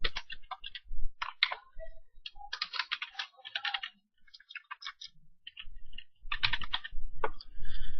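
Fast bursts of key clicks from a computer keyboard as a package name is typed into a form in the Gothic INI maker tool, close and dry, with short pauses between runs of typing.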